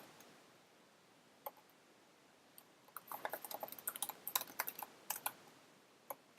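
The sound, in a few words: typing code on a computer keyboard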